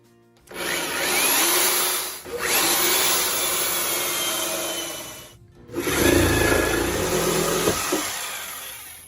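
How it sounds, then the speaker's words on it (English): A power drill whirs loudly in three long bursts with brief pauses between, grinding through wood with a rough, rubbing texture. "we'll drill this and we'll drill it down approximately 1 inch"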